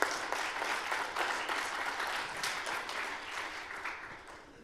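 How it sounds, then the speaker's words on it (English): Steady applause from an audience at a student demo day presentation, moderately distant and fairly even, slowly tapering off toward the end. "So let's give them a round of applause."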